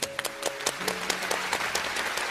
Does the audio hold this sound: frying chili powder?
no